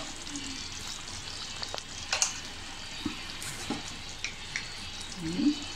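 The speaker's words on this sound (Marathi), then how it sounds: "1 चमचा आता याच्यावर आपल्याला असं तूप सोडायचं आहे" Ghee sizzles in a pan of paneer masala, a soft, steady hiss broken by a few faint clicks and small pops, with no one talking.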